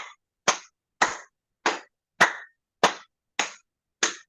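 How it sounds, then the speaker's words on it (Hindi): Seven crisp hand claps at a steady, even pace about half a second apart, close and dry, with nothing else audible between them, from hands clapping alternately in front of and behind the body. "आगे पीछे ताली"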